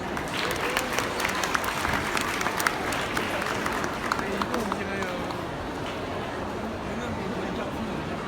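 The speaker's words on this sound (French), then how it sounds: "On peut le féliciter et l'applaudir." An audience at an agricultural show claps in a sustained, dense burst of applause, with a voice speaking over it close to the microphone.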